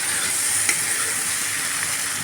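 Okra (bhindi) being stir-fried in oil gives a bright, steady, close sizzle that holds evenly, with a single faint scrape of stirring.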